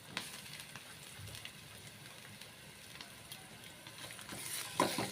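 Ground ginger and garlic frying in a pan for a Holi special dish, a soft, steady crackling sizzle that stays fairly quiet, with a brief louder burst of spitting near the end.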